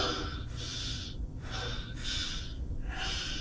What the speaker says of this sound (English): How am I making breathing noises though?